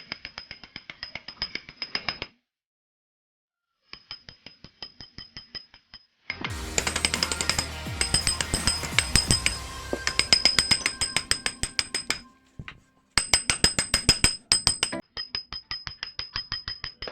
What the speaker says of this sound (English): take a hammer and hammer the wheel bearing until it came down